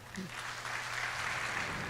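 A church congregation applauds steadily after a sermon, a dense wash of clapping that holds for the whole stretch, moderately loud.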